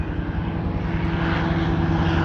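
Hurricane and P-40 warbird piston engines roar overhead at an air show, a loud, steady propeller drone with a low throbbing pulse, no voices.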